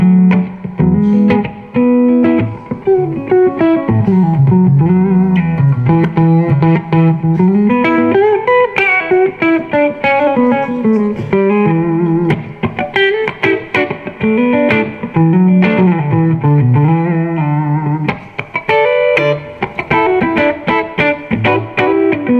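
A PRS electric guitar plays melodic lines through an amplifier's clean channel, loud and continuous with sustained notes and some reverb, no talking.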